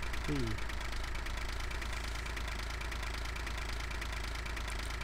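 A tractor engine in the Farming Simulator 15 video game runs at a steady idle-like drone throughout, loud and constant, with someone talking over it.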